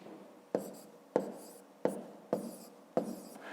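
A hand writes out the number 1506 for a fifth-grade subtraction problem in five distinct, evenly spaced strokes, each a sharp scratch that fades quickly, close and alone.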